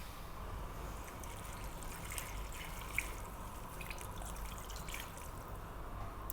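Water pours steadily into a pot for broccoli soup, a constant low splashing trickle with small drips standing out now and then, moderately quiet and with no talking.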